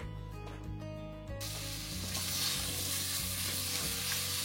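Onions fry in very hot oil, a loud, dense, continuous sizzle and hiss close by that swells to full strength after a brief quieter start, with no talking.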